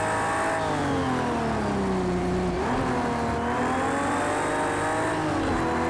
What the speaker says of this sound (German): ich habe hier lange keinen Ferrari gesehen, den ich jetzt überhole